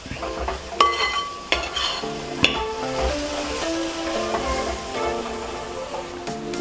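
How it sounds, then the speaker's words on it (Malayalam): Ginger-garlic paste frying for Malabar chicken chukka is stirred in a pan, giving a soft sizzle under repeated spoon scrapes and sharp clinks against the metal, irregular and close, with no voices. "ഇനി ഇഞ്ചിയും വെളുത്തുള്ളിയും പേസ്റ്റ് ഒരു സ്പൂൺ ഇത്രയും കൂടെ ഇട്ടിട്ട് നന്നായിട്ടൊന്നങ്ങ് മിക്സ് ചെയ്യും"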